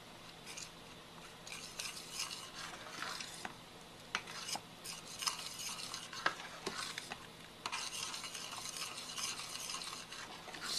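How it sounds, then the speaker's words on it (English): Spoon stirring a mac and cheese sauce of milk, cheese and cornstarch in a pan on the stove, soft continuous scraping and swishing with occasional metallic clinks against the pot, faint and close. "Add a little bit more cornstarch. Stir it in."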